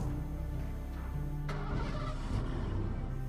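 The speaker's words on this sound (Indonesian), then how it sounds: "Kok kayak suara mobil bokap?" A family car's engine runs steadily and loudly nearby, a continuous mid-pitched drone with slight shifts that suggest it pulling away.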